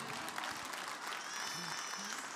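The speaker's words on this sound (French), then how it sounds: "est-ce qu'on peut applaudir Jésus pour moi, s'il vous plaît?" Church congregation applauding during a sermon, a steady wash of clapping that fills the whole moment at moderate level, with faint voices and a brief tonal sound mixed underneath.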